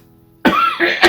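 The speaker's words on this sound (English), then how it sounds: "I'm about to cough." A single close, loud cough bursts out after a short quiet lead-in, with a second harsher cough-like rasp trailing right after it.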